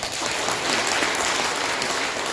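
Audience at a Universal Peace Federation peace ambassador seminar in Guri breaks into steady, dense applause that fills the room, many hands clapping together without pause and no voices standing out.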